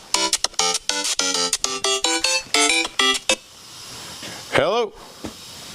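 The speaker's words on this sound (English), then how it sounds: "Oh, we got a phone call here." A phone rings with a rapid series of bright electronic tones for about three seconds, then stops, followed by a short hiss-like sweep; loud and close.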